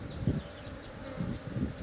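A honeybee colony hums around its hives during the harvest of willow-leaf eucalyptus nectar, a low soft buzz swelling in gentle pulses with a faint steady tone behind it.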